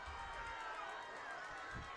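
A high school playoff football crowd at Cedarburg, WIAA Division 2 Level 1 game against Hortonville, keeps up a steady, wide crowd murmur that fills the whole moment without distinct cheers.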